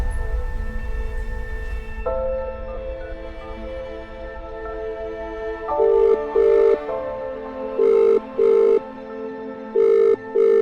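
A telephone rings in regular repeated double bursts, loud and close, after a stretch of background music and low hum.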